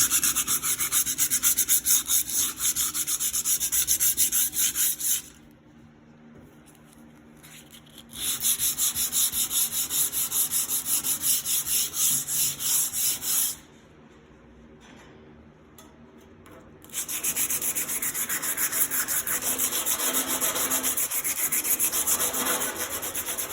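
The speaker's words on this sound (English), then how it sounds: "we have just a regular piece of 80 grit sandpaper folded over on it." Raw steel is sanded by hand with folded 80 grit sandpaper, giving a loud, steady, close rasping rub in three long stretches separated by brief quieter pauses.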